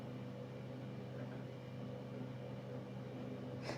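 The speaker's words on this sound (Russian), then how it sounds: "Сейчас мы будем взбивать 500 грамм сливок, 500 миллилитров сливок" An electric mixer whipping 500 millilitres of cream for an ice cream cake, a steady droning motor hum held at an even level throughout, faint and unbroken, with no speech.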